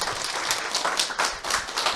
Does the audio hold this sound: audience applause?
yes